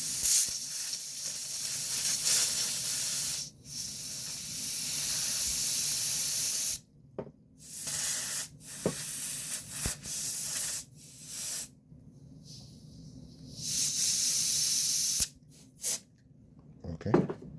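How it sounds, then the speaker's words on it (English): Compressed air sprayed in long hissing bursts at the power switch of a Logitech Z623 speaker system during a buzz-noise repair, several loud sustained blasts separated by short pauses and a few quick puffs, with no talking. "so I'm going to use the pressure air"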